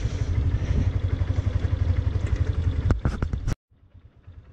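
A motorcycle rides off-road across open ground toward the Ganges riverbank, its engine chugging close and steady with rattling clatter before cutting off abruptly near the end and leaving quiet.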